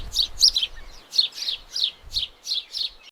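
Small birds chirp in the Amazon forest, a rapid series of about ten bright, high tweets in steady rhythm, close and clear over a faint low rumble, with no voices.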